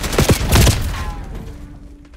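AK rifle fire in Black Ops 6 comes as a rapid, close burst of loud shots, then trails off into a fading rumble.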